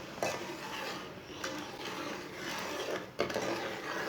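Semolina halwa being stirred in a pan, a steady scraping and rubbing of the spoon against the pan bottom, continuous and close with a few sharper strokes, no voices.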